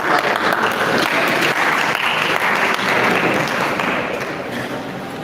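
An audience at an agricultural training event applauds the students, a dense, steady round of clapping that tapers slightly near the end.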